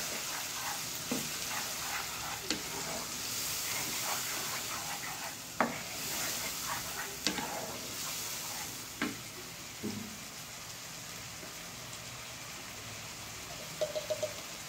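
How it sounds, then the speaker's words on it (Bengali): Spice masala for chicken curry frying in hot oil in a pan, a steady close sizzle with occasional scraping stirs and clinks of the spoon, with no talking. "তারপর মশলাটাকে বেশ কিছুক্ষণ কষাতে হবে"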